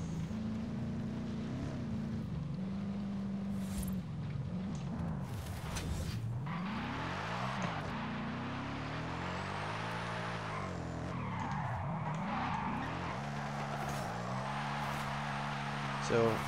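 A drift car in a Forza Horizon drift arcade event revs and slides, its engine pitch sweeping up and down with skidding tire noise, while a person talks over much of it.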